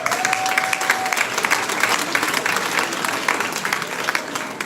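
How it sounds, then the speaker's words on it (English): A graduation ceremony crowd claps in a dense, lively round of applause, steady and fairly close, with a brief tonal whistle-like note near the start. "No, you have to clap them better than that."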